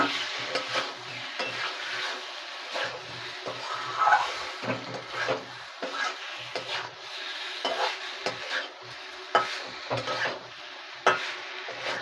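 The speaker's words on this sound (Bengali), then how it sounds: "এবার নাড়াচাড়া করে ভালো করে একটু নেড়ে নেবো আমরা" Potatoes with spices being stirred in a pan for a khichuri and alur dom meal, with irregular scraping strokes of a spoon against the pan over a low sizzle, close and moderately loud, no talking.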